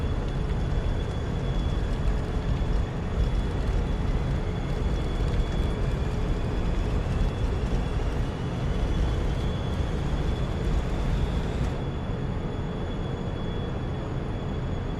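Jet engine roar of an airliner's takeoff roll in a flight simulator game, a steady loud broadband rumble with a high whine that builds continuously, then the upper hiss drops away near the end.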